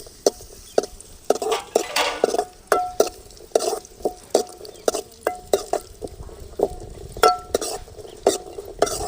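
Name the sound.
cashew nuts frying in ghee, stirred in pan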